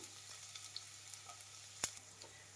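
Finely chopped garlic, about two tablespoons, frying in hot oil in a pan for spicy capsicum chilli chicken, with a faint steady sizzle and a few soft stirring clicks, one sharp tap partway through.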